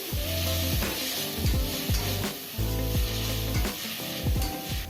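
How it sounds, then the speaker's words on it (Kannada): Chopped tomato with spices fries in a pan for bisi bele bath, sizzling steadily while a spoon scrapes and stirs in repeated strokes, close and moderately quiet, without speech. "ಅದನ್ನೂ ಸಹ ಇಲ್ಲೇ ಆ್ಯಡ್ ಮಾಡಿಕೊಂಡು ಚೆನ್ನಾಗಿ ಫ್ರೈ ಮಾಡ್ಕೊತಾ ಇದ್ದೀನಿ"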